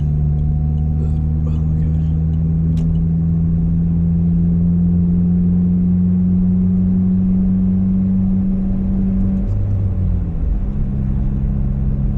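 A manual-transmission car driving on the road, its engine a steady low drone with a held pitch that drops near the end as if shifting gears, continuous and close throughout with no talking.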